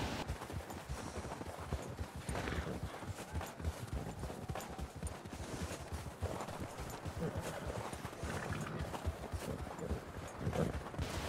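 Horse hooves plodding along a trail in Red Dead Redemption 2, a steady close clip-clop rhythm that continues throughout at a quiet level, with faint background rustle.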